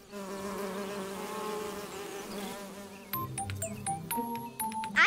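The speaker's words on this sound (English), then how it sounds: "And that bee is buzzing." A bee buzzes steadily outdoors with a droning hum, then birds chirp brightly in the later part, all fairly faint with no talking.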